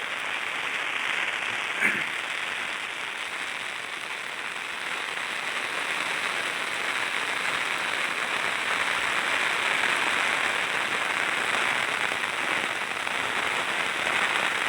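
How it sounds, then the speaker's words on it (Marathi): Heavy monsoon downpour near Trimbakeshwar, rain falling hard since the night and flooding the paddy fields; a steady, dense hiss of rain continues throughout with no talk and one brief sharp knock near the start. "आमच्याकडे म्हणजे रात्रीपासून अति मुसळधार पाणी, म्हणजे कालपेक्षा भरपूर पाणी चालू आहे"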